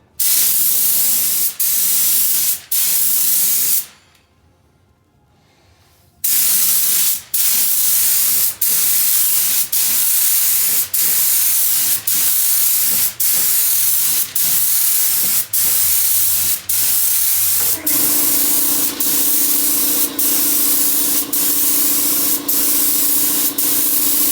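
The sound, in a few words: aerosol spraying clear polyurethane coat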